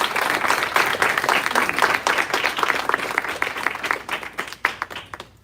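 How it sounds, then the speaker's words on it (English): A graduation audience breaks into loud applause for the graduates, a dense crowd clapping with individual sharp claps standing out, thinning into sparse final claps before stopping. "so a big round of applause to each of you."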